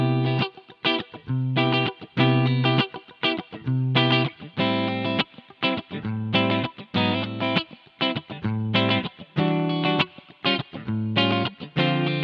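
Heavily distorted electric guitar through a Friedman 4x12 cabinet loaded with Celestion Greenbacks and Vintage 30s, with added compression and reverb, chugs out chords in a steady, driving rhythm, loud and full with short gaps between bursts, no voices.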